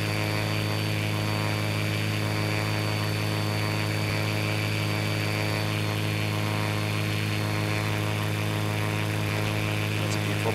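Propeller engine of an Aerospool WT-9 light aircraft just after lift-off in Flight Simulator X, a steady loud drone with strong constant tonal hum, unchanging throughout and no voices.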